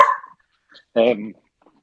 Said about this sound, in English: just going to try and shut this dog up